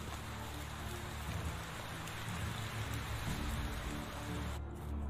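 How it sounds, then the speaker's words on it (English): Steady rain pouring down in the medieval survival game Medieval Dynasty, a dense, even hiss that continues unbroken and fairly loud, cutting off abruptly near the very end. "Okay, what's with the rain sounds?"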